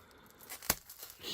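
A blade makes a quick, faint cut through the packaging of a fountain pen box. One short, sharp tearing sound comes close up, followed by a soft rustle.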